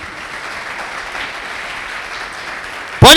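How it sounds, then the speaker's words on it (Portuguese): A church congregation applauds in a steady, moderate wash of clapping throughout, with a brief louder burst of other sound cutting in at the very end. "Você pode aplaudir o Senhor Jesus por isso?"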